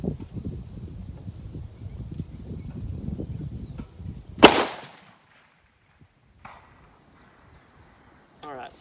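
A single sharp rifle shot from a Tikka TAC A1 rings out at a steel target range, preceded by outdoor talk and followed by quiet, with a faint distant clang of steel and small handling clicks afterward.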